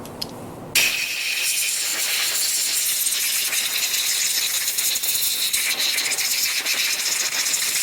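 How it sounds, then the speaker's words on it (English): Compressed air blasts through a Honda GCV160 carburetor, a loud, steady hissing rush that starts abruptly after a brief moment and continues unbroken for several seconds, close up and without talking. "This is when you're going to want to get that compressed air."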